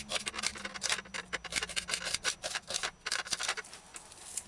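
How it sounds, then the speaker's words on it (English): A knife slices an onion finely on a cutting board in quick, rhythmic scraping strokes, close and fairly loud, with no talking. "After that, dice or slice the onion fine."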